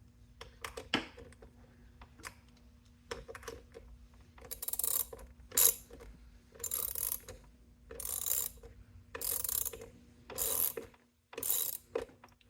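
Bolts on a roller skate plate mount are tightened one corner after another in a star pattern, giving close, quiet bursts of ratcheting clicks that repeat at regular intervals between short pauses.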